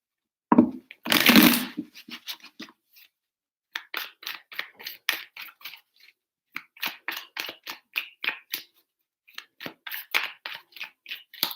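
A deck of cards shuffled close to the microphone: a burst of riffling, then several runs of quick crisp card flicks with short pauses between them, no talking.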